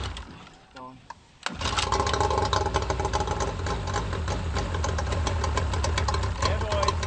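A cold dinghy boat motor cranks, catches with a sudden loud start after a short quiet stretch, then runs at a rough, steady idle with knocking pulses while people talk and shout over it.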